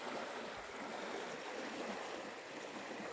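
The Pipo River near Ushuaia flows with a soft, steady rushing wash, a faint, continuous hiss of moving water with no voices.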